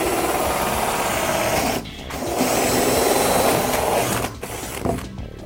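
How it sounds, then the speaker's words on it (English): A power drill bores a hole through an Akril decorative panel, a loud continuous whirring grind close by that briefly stops twice, then resumes. "spin the product over and then drill through the other side"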